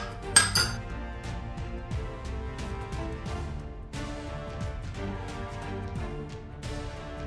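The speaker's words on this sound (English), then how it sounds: "I'm going to transfer it to a greased bowl like so." Sticky bread dough moved by floured hands into a greased bowl, with close clinks and knocks of the bowl and utensils ringing in a quiet kitchen and a sharper clatter near the start.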